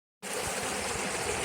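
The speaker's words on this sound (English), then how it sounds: "Nice early morning cross of this creek here on a railroad tie." An Appalachian creek rushes steadily in the early morning, a close, continuous broadband wash of flowing water that starts suddenly and holds without a break.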